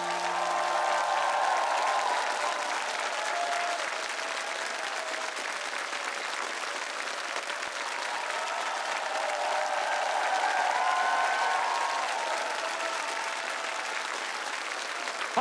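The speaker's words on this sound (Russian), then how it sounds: "Послушай, какие аплодисменты!" Sustained audience applause after a song at a televised singing show, loud and steady throughout with crowd noise, no speech.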